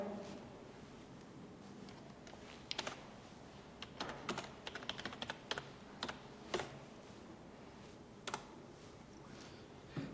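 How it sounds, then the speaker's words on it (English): Typing on a computer keyboard while entering text in a browser: scattered, fairly quiet clicks and taps come in irregular bursts over a low room hiss. "Now I will type Tap Academy here."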